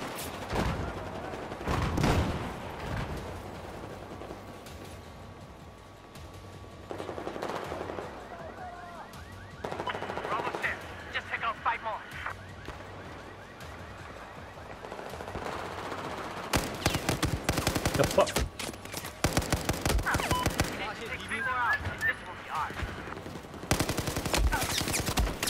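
Rapid bursts of AK5C submachine gun fire from Battlefield 4 crackle in repeated volleys, some long and some short, separated by quieter stretches of game ambience.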